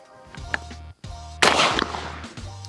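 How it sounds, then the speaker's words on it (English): A Benelli Ethos Sport 28 gauge shotgun firing outdoors during recoil and reliability testing; a few loud, sharp reports spaced about a second apart, each with a brief ringing tail, no speech. "Now I can finally start doing some shooting, which is my favorite part."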